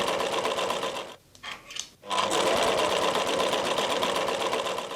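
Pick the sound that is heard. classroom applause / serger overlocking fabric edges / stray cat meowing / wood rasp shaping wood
serger overlocking fabric edges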